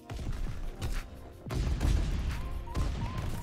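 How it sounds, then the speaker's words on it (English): A grenade explodes in Call of Duty WWII, with heavy booms and thuds among scattered gunfire, loud and close, the blasts landing at intervals over a few seconds of battle noise. "Oh, he dropped the grenade!"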